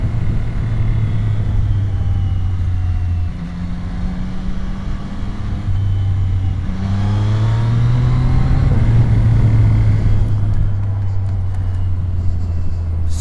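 A Yamaha R9 motorcycle engine pulls hard out of corners on a street ride, a loud, steady mid-pitched drone that climbs in pitch as it revs up through the gears, with a brief dip before rising again.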